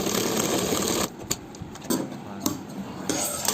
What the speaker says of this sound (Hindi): इस पे भी हमें सिलाई चला देनी है